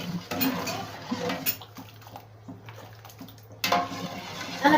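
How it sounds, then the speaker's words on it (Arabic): A homemade pickle mixture is stirred in a container with a spoon, producing wet sloshing and scraping with occasional clinks in uneven strokes, close by with no talking. "نقلب كويس قوي"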